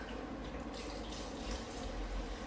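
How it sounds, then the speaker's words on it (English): Water poured into a pot of simmering tomato sauce, a steady, continuous splashing stream close by that runs unbroken for a couple of seconds with no talking. "I'm gonna add some water."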